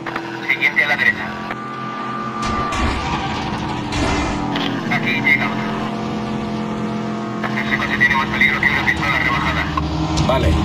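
Cars approaching on a road in the video game Medal of Honor Warfighter, engines roaring and swelling past amid gunfire-like bursts, with voices talking over the action.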